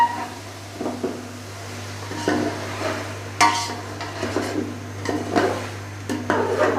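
Half a kilo of finely chopped tomatoes are stirred into a pan of fried chicken for biryani, making scraping stir strokes and soft sizzling bursts over a low steady hum, close and moderately loud.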